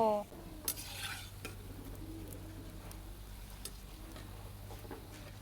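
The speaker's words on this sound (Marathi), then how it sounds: "भाज्यांचा कढईमध्येच खडखड आवाज येत आहे" Crispy bhaji fritters clatter and scrape in a kadhai of hot oil, with soft stirring clicks over a low, steady frying hiss. The sound is quiet and fairly close, and no one speaks.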